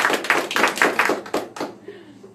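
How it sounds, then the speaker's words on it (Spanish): Congregation clapping during a Spanish-language church sermon, a brief burst of rhythmic hand claps fading out after about two seconds. "Démosle un aplauso al Señor"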